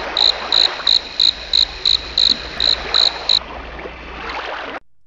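Grasshoppers chirp in a cartoon scene: about ten short, evenly spaced shrill bursts in a steady rhythm over a constant background hiss, then the chirping stops.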